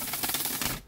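A gilded tarot card deck being shuffled by hand, a close, quick run of papery rubbing and riffling flicks that stops abruptly near the end.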